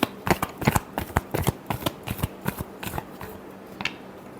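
Tarot cards shuffled by hand in a run of crisp, papery riffles and flicks, close and fairly loud, with no talking.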